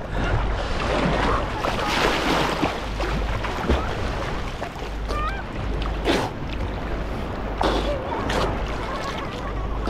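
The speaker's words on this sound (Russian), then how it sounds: "Ух, волна, парни, гасись." Sea waves slap and wash against a small boat off the Turkish coast near Olympos, a constant loud rush of water and wind with sharper splashing bursts throughout, and voices faintly present.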